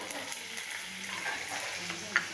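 A spoonful of ginger fries in about two spoons of hot oil in a heated pan while it is stirred, giving a steady soft sizzle with small crackles and one sharper pop near the end.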